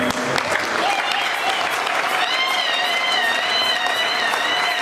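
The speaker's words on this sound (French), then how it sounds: "Maintenant tu vas acclamer pour toi-même." A church congregation bursts into loud, sustained applause and cheering, a dense wash of clapping that fills the room throughout, with voices mixed into the crowd noise.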